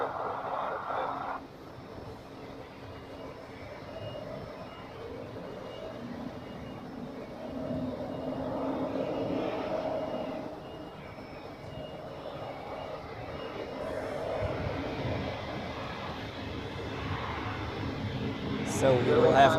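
An airliner taking off from runway 28 at Zurich Airport, a broad distant engine roar that rises and swells over many seconds, with voices talking throughout.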